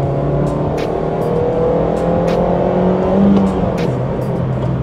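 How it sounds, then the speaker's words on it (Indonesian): A manual Honda Brio accelerates in second gear from inside the cabin, with a steady engine drone and a rising tone under road noise, while small clicks and knocks sound throughout and a brief swell of revs comes near the end. "terus sekarang kita mau tes tenaganya Honda Brio ini nih"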